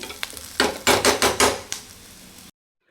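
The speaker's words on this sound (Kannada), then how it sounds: "ಈಗ ಈರುಳ್ಳಿ ಚೆನ್ನಾಗಿ ಬಾಡಿಸ್ಕೊಂಡಿದ್ದೀನಿ" Onions are stirred in a pan, with a series of close, scraping and clinking strokes of a utensil against the pan over soft sizzling, then silence at the end.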